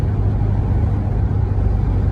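A car on the road, heard as a loud, steady low engine and road rumble with no break and no voices.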